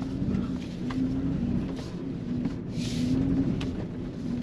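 A Toyota Sequoia TRD Pro SUV rolls into a sugar sand pit on a trail, with a steady low engine rumble and tire roar holding even throughout, and a brief whoosh of wind or sand spray midway.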